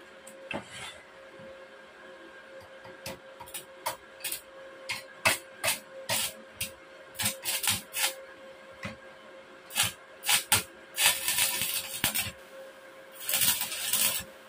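Arc welding on rusty metal with a 450W welding machine: irregular bursts of loud, close crackling and sputtering over a steady electrical hum, starting and stopping in short strikes, with no talk.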